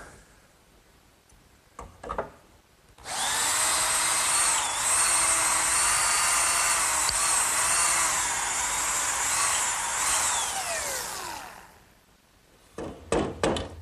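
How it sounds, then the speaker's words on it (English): A loud, steady power drill whines continuously for several seconds as it bores up through 2x4 lumber, starting and stopping abruptly, with brief knocks before and after. "now I want to drill two more holes right up through these 2 by 4s"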